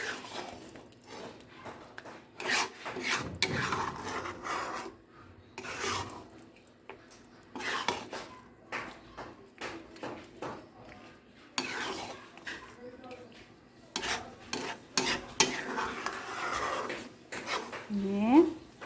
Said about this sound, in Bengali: মশলাটা দেওয়ার পরে আর ভিনিগারটা একসাথে ভালো করে একটু